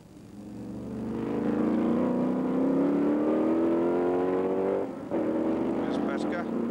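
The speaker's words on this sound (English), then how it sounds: "Porsche locks up the brakes and picks up a gear." A Porsche 917 race car at the 1991 Montlhéry historic Grand Prix in Paris holds a loud, rising engine note, then briefly dips as it brakes and takes a gear before pulling again, with a commentator talking over it.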